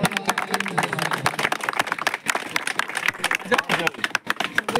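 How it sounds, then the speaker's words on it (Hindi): A crowd at a gathering on the Rajasthan border claps their hands, scattered and uneven applause mixed with overlapping voices and chatter nearby. "ताली बजा दे।"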